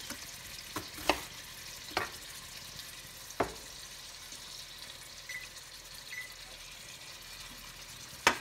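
Garlic and onion fry in a pan beside wild salmon, a low steady sizzle punctuated by several sharp spoon or spatula clacks against the pan at irregular intervals.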